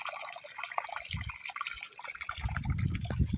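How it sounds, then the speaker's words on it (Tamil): Water from a motor-driven pump gushes through a gate valve and irrigation pipe on a farm, a soft, continuous splashing flow that is faint and fairly distant. "தண்ணி வந்துருச்சு பாருங்கள். இப்போ தான் மோட்ரு விட்டு வந்தோம்."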